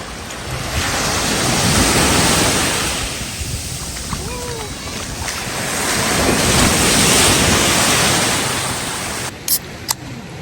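Surf rolls in and washes out in slow swells on a clear-water beach at Chania, Crete, with wind buffeting the microphone throughout; a couple of brief knocks near the end.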